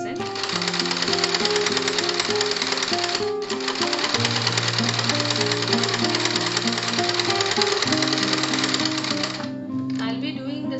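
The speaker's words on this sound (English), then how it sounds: "I'll be doing the stitching in the same manner in the other two sides." A sewing machine runs steadily as it stitches through three layers of a door mat, with a loud, continuous rapid mechanical chatter and hum, close up, pausing briefly and then resuming.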